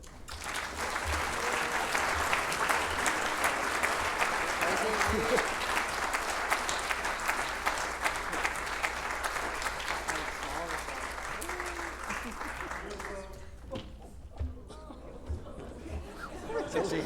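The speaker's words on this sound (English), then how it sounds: "do you want to give them a big round of applause?" A large audience applauds at an awards evening for the Mindful Money Awards 2025, with sustained clapping and light chatter for about thirteen seconds before the clapping thins out and tails off.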